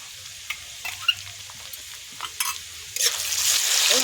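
Onions frying in a pan with dry red chilli and ginger-garlic paste, soft sizzling with scattered spoon scrapes and stirring clicks, the sizzle swelling louder toward the end.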